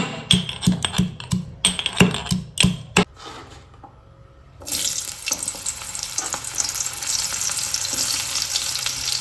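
Onions are dropped into a hot pan and start frying. A run of sharp clatters and knocks gives way to a brief quiet stretch, then a loud, steady crackling sizzle that continues to the end.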